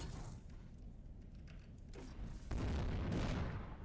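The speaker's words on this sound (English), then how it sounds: "Let's fire a bullet at it. Look at that. It's just gonna blow it into pieces." Ship-mounted gun fires in the Avorion space game, blowing a target into pieces: a quiet stretch gives way to a sudden loud booming burst that rumbles on for over a second.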